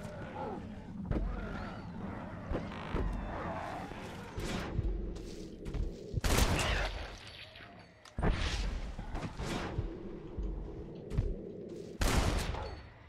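Gunfire in Red Dead Redemption: Undead Nightmare, with loud, sharp shots in irregular bursts and single blasts over a low background rumble, spaced a second or two apart.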